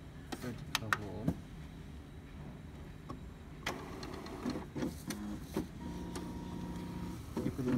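An Epson M200 inkjet printer whirs and clicks as it powers on, motors buzzing in short bursts with mechanical clunks in between, close and fairly quiet.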